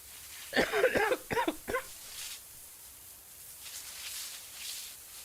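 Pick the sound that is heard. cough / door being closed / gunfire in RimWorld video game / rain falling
cough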